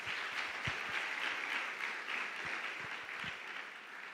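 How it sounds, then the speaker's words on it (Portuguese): A church congregation applauds the men at a Quadrangular family service, with steady, dense clapping from a fairly near crowd that carries on throughout without a pause. "Vamos aplaudir os homens"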